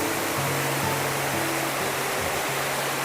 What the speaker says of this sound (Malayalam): കല്ലുകൾക്കിടയിലൂടെ പുഴ ഒഴുകി